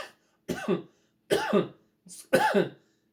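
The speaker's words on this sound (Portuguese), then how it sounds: "o professor tá com tosse" Three separate coughs, loud and close, each a short harsh burst spaced about a second apart in otherwise quiet surroundings.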